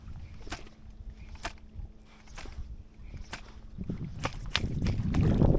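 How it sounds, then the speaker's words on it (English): Fishing line snaps off the water while a jerkbait is worked, making a series of sharp, evenly spaced ticks close by over low wind and water noise that grows toward the end. "you guys are gonna be able to hear the sound that the line makes snapping off the water"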